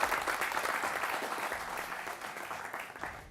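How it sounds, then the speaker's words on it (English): Studio audience applause during a live televised news debate, a steady dense wash of clapping that holds evenly for several seconds before tapering slightly at the end, with no talking over it. "So big round of applause to you all."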